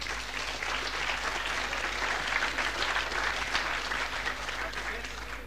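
A church or lecture audience breaks into dense, sustained clapping, steady and loud for several seconds without a break, filling the hall.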